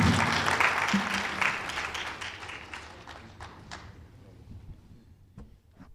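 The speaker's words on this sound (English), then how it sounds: "A big round of applause to Honorable Matundu, Deputy Minister of International Relations and Trade" Audience applause at a 2025 business forum in Namibia, honouring a deputy minister of international relations and trade; dense clapping opens loud, then thins and fades over several seconds into scattered claps and faint room noise.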